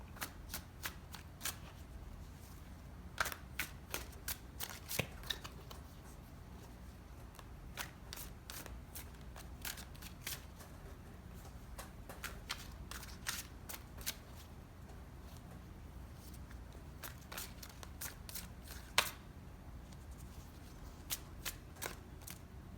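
Tarot cards shuffled by hand in a run of crisp riffling bursts and soft slaps, close up and fairly quiet, with brief pauses between shuffles and no talking.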